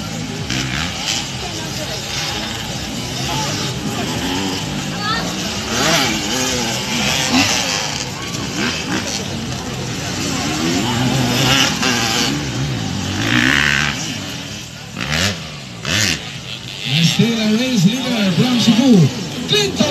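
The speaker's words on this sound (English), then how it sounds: "riding now on his blue PMX 200" Blue PMX 200 motocross motorcycles at a motocross race in Pilar, Bohol, engines droning and revving, rising and falling as bikes pass, under continuous loud announcer talk over the public address.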